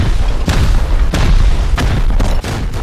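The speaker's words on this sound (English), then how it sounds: "Who's shooting rockets?" Rocket explosions boom repeatedly during a raid on a base in the video game Rust, several heavy blasts arriving at irregular intervals over a constant roar of battle noise.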